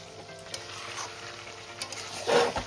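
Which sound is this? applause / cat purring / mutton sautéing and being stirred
mutton sautéing and being stirred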